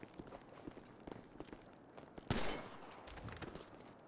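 Gunfire aimed at car tires in GTA 5 roleplay: scattered light impacts and steps, then a sharp close shot with a noisy tail, followed by a few more softer reports.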